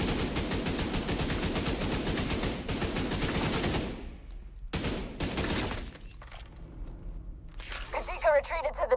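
Gunfire in The Division 2 video game comes as dense rapid automatic bursts, then short separate volleys broken by pauses, with game sound effects near the end.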